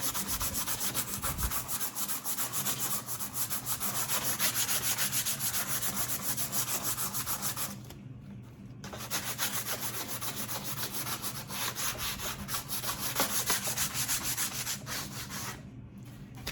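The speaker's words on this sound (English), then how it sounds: "I'm just going to sand the words down light" Old sandpaper is rubbed by hand over painted lettering on a wooden farmhouse sign, producing close, continuous scratchy sanding strokes in a steady rhythm, with two brief pauses.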